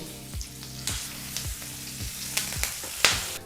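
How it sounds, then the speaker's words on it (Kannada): Urad dal, turmeric and curry leaves frying gently in oil on a low flame for a green gram usli, with a soft, quiet sizzle punctuated by periodic spoon knocks against the pan. "ಒಂದು ನಿಮಿಷ ಲೋ ಫ್ಲೇಮ್ನಲ್ಲೇ ಇದನ್ನೆಲ್ಲ ಚೆನ್ನಾಗಿ ಫ್ರೈ ಮಾಡ್ಕೋಬೇಕು"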